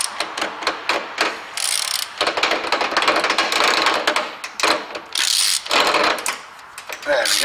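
A ratchet with a 30mm socket tightening a fastener on a Renault Master van's front steering, rapid clicking strokes in bursts with short pauses, close and loud in a garage.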